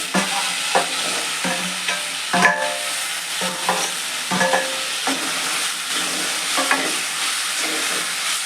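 Tomatoes go into a hot pan for dal-free sambar and are stirred through the frying spices, giving repeated scraping stirs over a steady sizzle, close and fairly loud, with no talking.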